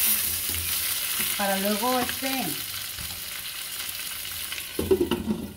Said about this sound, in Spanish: Y aquí lo voy a dejar que se sofría un poquito.